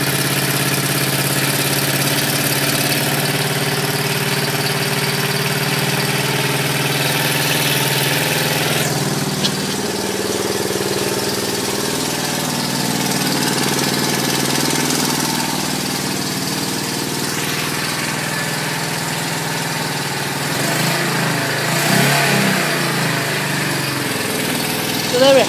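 The engine of an old, previously broken-down motorcycle runs steadily and loudly for a long stretch, mostly idling with some shifts in pitch that suggest light revving, with someone talking over it.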